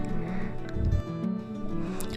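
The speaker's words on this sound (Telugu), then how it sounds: "వాటర్ వేసిన తర్వాత కర్రీని ఒకసారి బాగా కలుపుకోవాలి" Mutton liver gravy curry is stirred in a pan just after water has been added, giving soft wet squelches and sloshing with a brief thicker slurp near the middle, close and moderately quiet.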